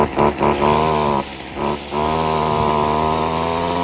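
A Stihl FS 38 brush cutter's small two-stroke engine runs right after a cold start, buzzing loud and close, dipping briefly twice before settling into a steady high idle.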